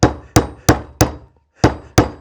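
Six sharp hammer strikes crack something open, close and loud, with a short pause between the fourth and fifth blows and no talking.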